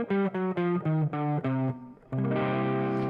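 An electric guitar plays blues-scale phrases that land on the blue note, with a distorted, effect-laden tone: a run of separate picked notes, then a sustained ringing chord-like tone, loud and alone.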